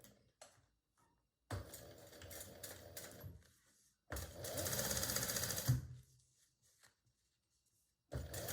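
A sewing machine chain stitching a tote bag, running in two bursts of steady mechanical rattle, the second longer and louder, separated by near silence, with a short start at the end.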